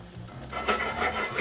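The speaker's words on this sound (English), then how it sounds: "once your oil's all heated up, you put some garlic." Fresh garlic dropped into heated oil in a pan, breaking into a bright, close sizzle that swells after a quiet start and crackles steadily for a moment, with no talking.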